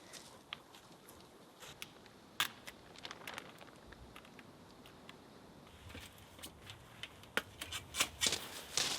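Tape being pulled and pressed onto a shipping container window, heard as a run of faint, scattered crackles, rips and taps against a soft background hiss, growing busier toward the end.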